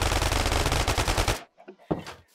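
Rapid pistol fire from a Minecraft gun mod sounds as a dense burst of shots for about a second and a half, loud and close, then a short pause and a few scattered fainter reports.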